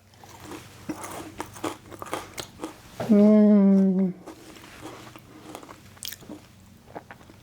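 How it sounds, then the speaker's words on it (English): Crunchy bites into air-fried cod with a salt and vinegar crust, close crisp crackles amid speech, with a brief loud tonal sound partway through. "Fish is crunchy and flaky and perfectly cooked."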